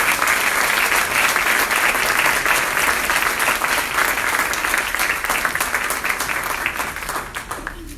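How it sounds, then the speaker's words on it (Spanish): A church congregation claps loudly and steadily for the whole stretch, a dense wall of applause that thins slightly toward the end. "Un aplauso para el Señor."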